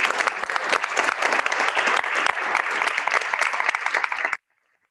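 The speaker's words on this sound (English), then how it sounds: "So let's give them a round of applause." An audience at a school board of education meeting applauds students moving on to play college sports, a dense, steady burst of clapping for about four seconds that stops abruptly.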